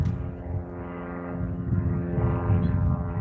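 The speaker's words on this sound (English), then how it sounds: "Sounds like something I learned how to fly, Cessna." A small propeller airplane like a Cessna drones overhead with a steady, moderately loud engine hum that holds across the short stretch, with no voices.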